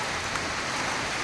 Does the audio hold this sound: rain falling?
yes